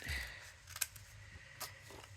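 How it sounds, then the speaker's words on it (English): Small scissors fussy cutting around printed paper flowers for a cardmaking project, giving a few soft, brief snips close by over a faint background. "I'm gonna take it and I'm gonna fussy cut it."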